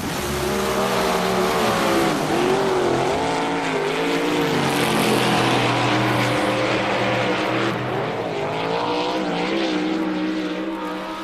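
Several loud vintage race car engines roar continuously, their pitch rising and falling as they pass, a dense, sustained rumble with no voices.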